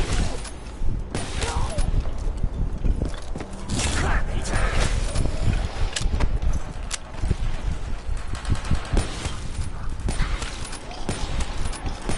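Sniper rifle fire in Call of Duty Black Ops 3 Zombies, Nacht der Untoten, repeated sharp loud cracks scattered irregularly amid mechanical clanks, creaks and busy game ambience.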